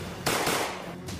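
Hitmen riding a motorbike fire two gunshots at close range. Two loud, harsh broadband bursts land about half a second apart, each trailing off into noisy echo.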